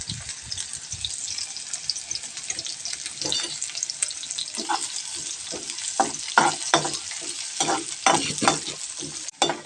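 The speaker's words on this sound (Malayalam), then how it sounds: "ആ കൈപ്പക്കയിലേക്ക് ഒരു സബോള ഇത് വറുത്തെടുക്കണം" Loud sizzling of onions frying in oil for bitter gourd roast, with repeated stirring scrapes and clatters growing more frequent toward the end; no talking.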